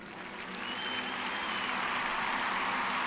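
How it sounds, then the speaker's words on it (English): Steady applause-like clapping from a single person giving a mock cheer, close and even throughout, with a faint tone running underneath. "Let me do some clapping."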